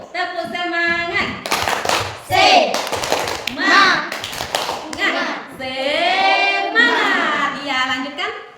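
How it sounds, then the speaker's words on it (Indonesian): A classroom group does a 'tepuk semangat' spirit clap during group work, children's voices chanting and calling over sharp patterned claps in quick rhythmic bursts, close and lively. "Ayo semangat, tepuk semangat."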